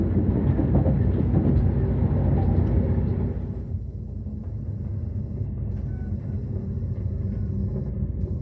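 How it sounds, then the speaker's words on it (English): A busy train rumbles past close by at Dawlish, heavy and continuous, with a deep rolling roar that eases slightly midway but keeps going to the end. "Very busy train that."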